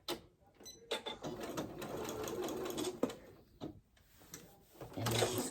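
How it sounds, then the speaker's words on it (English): A sewing machine stitches close up in bursts, its needle whirring and clattering with short pauses between runs as fabric for shorts is sewn and backstitched. "I'm gonna sew down to my first dot and back stitch"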